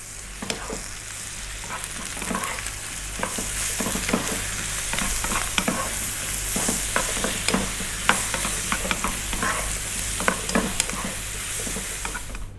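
Potato curry with chilli, turmeric and cumin fries in a pan under constant stirring, a bright continuous sizzle broken by regular scraping strokes of the spoon, close and loud, with no voices.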